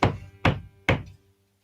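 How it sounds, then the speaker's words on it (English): Three heavy knocks on a castle door, evenly spaced and booming, each hollow thud decaying quickly before the next. "Goes back to the castle, bangs on the door."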